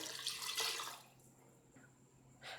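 Water poured into a pressure cooker holding beef pieces, a steady splashing pour for about a second that then fades to quiet with a brief trickle near the end.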